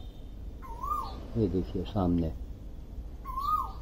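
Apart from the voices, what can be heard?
Asian koel calling from a fig tree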